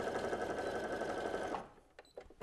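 A sewing machine stitches fabric for a small DIY earbud keeper, running loud and steady for about a second and a half before stopping, followed by a few faint handling clicks.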